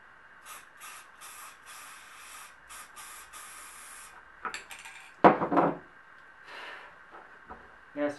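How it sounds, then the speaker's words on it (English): Several short hissing bursts of spray paint into a lid, then a clatter of light objects being handled nearby. "spray it into the lid"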